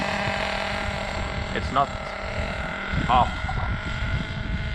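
HPI Trophy Truggy 4.6 nitro RC truck engine held at roughly a quarter to a third throttle, a steady buzzing drone running close by with someone talking over it.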